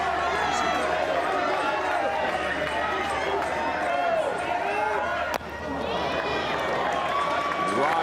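A softball crowd at an ISF 2013 playoff game between New Zealand and Venezuela roars and cheers continuously, a dense, steady wall of voices with a brief dip partway through.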